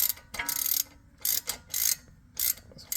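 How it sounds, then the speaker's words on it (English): A hand ratchet turns a bolt while working on a 2012 Ford Focus wheel speed sensor, giving four bursts of close, loud clicking separated by short pauses. "just gonna ratchet that"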